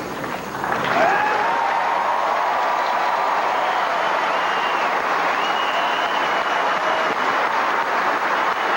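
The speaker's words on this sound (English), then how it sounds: "The crowd acknowledging Venus and how difficult it was for her to play her sister." Sustained applause from the Wimbledon crowd for Venus Williams after a final against her sister Serena, a dense steady wash of clapping that holds at full volume throughout without speech.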